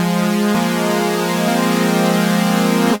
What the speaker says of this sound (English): what you're hearing are those 4 separate oscillators playing individual notes.